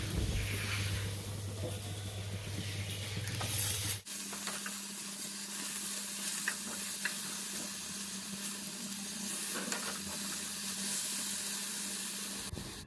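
Eggplant slices fry in oil in a pan with a steady, close sizzle and hiss, the tone shifting partway through as a lid covers the pan, and the frying continues evenly after that.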